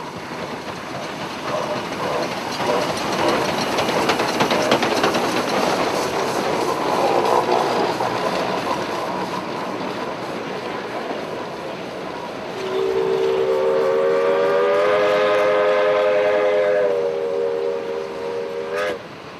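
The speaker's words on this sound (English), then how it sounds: "The Shay makes an awesome sight as it rolls through Sonora" Sierra Railroad Shay steam locomotive No. 2 chugs and rumbles loudly nearby while rolling through Sonora, then a long steady multi-tone steam whistle sounds for several seconds before cutting off.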